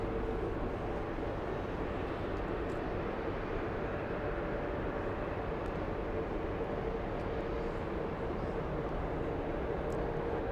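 An Airbus A330neo airliner taxis toward the runway at JFK airport, its engines producing a steady, distant broadband roar that holds even and unbroken throughout.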